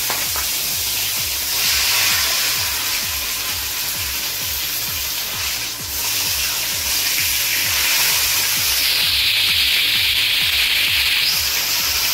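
Fish and tomatoes fry in a pan with a steady, close sizzle and hiss that holds for several seconds.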